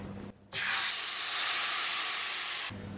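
Cashew and poppy seed paste dropped into hot oil left from frying paneer, bursting into a loud, steady sizzling hiss that holds for about two seconds before cutting off.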